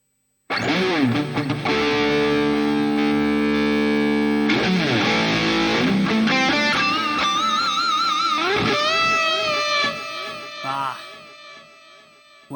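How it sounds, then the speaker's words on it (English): Electric guitar run through a Boss distortion pedal into a Digitech GSP 1101 with an Ownhammer impulse response, loud saturated chords giving way to sustained, bending lead notes that fade out at the end, with no voice over it. "so I will use a distortion pedal. Maybe the Boss distortion here."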